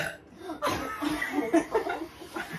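A child burps after eating a Van Holten's Tapatio-flavoured spicy pickle and drinking its juice, a short throaty belch mixed with giggles and chuckling from nearby kids.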